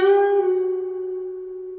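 Electric guitar playing a full-step string bend from a solo. A single bright note rings out alone, is held steadily and slowly fades.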